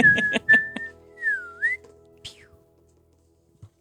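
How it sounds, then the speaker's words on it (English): A person whistles a short tune of bright, sliding notes, close and clear, with a few brief soft knocks and rustles and a low murmur after the whistling stops. "Dawn turns and starts whistling"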